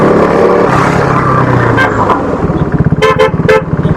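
Busy city road traffic with loud engine rumble close by, cut through by several short car horn toots in quick succession toward the end, with a motorcycle engine throbbing underneath.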